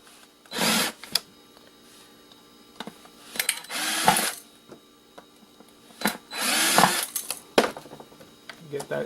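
An electric screwdriver or drill whirs in short bursts while screws are taken out of a tea kettle casing, about four loud spins spaced a second or two apart, with small clicks and handling noises between them, recorded close up.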